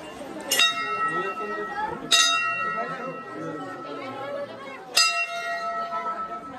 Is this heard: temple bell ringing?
yes